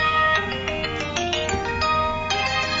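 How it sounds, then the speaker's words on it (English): A phone ringtone plays a steady electronic melody of repeating tonal notes indoors, loud and close, with no talking over it. "she's got her own ringtone"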